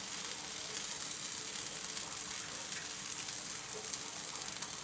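Pork stir-fried with shrimp paste in a pan, a soft, steady crackling sizzle with faint stirring, fairly quiet and without talk.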